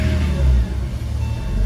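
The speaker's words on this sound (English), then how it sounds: "Go ahead and start the car" A Porsche 986 with a cold engine after sitting overnight, running with a steady low mid-pitched drone close to the microphone, alone without speech.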